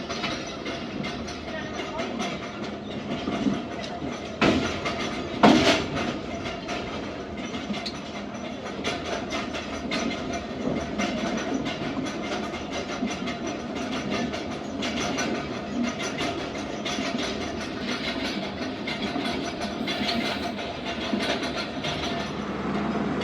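Zakariya Express train running on rails near Ghotki railway station, a steady rumble with rhythmic wheel clatter throughout and a sharp metallic bang or screech near the start.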